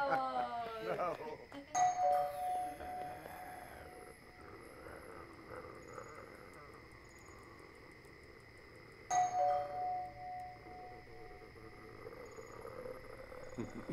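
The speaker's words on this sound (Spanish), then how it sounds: "es el timbre" A doorbell rings inside a home during a birthday party, with an electronic ding-dong chime at the start and a second chime partway through, both over a steady background hum.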